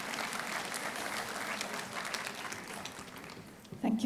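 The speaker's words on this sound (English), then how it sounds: "we must give these medical warriors a big round of applause" An audience at a global health diplomacy conference gives sustained applause for medical corps workers, a dense, steady wash of clapping throughout, with a voice briefly cutting in near the end.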